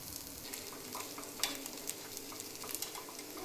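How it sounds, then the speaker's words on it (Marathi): Rava appe batter fries in the cups of an appe pan with a steady, close sizzle and crackle, broken by a few small sharp clicks. "ही साईड पण भाजून घ्यायचे आहेत"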